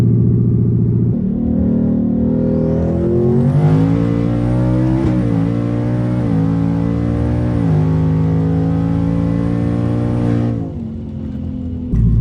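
A Ford Gen 3 Coyote V8 on 12 psi boost revs hard and climbs steadily through a long drag acceleration run, loud and close, then drops off sharply near the end.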